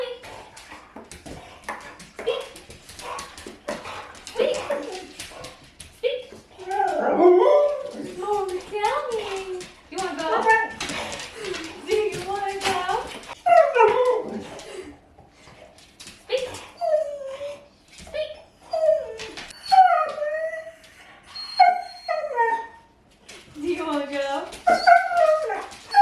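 Dogs whimpering, whining and giving occasional yips and barks while being driven to the dog sitter, a near, continuous stream of high pleading whines rising and falling with short pauses.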